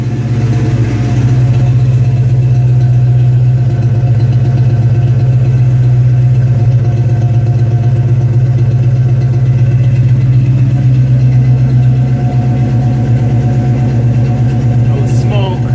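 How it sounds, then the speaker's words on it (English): A Saleen car's engine idles after a cold start, a loud, steady, continuous low hum that holds even throughout with no breaks. "Nice cold engine."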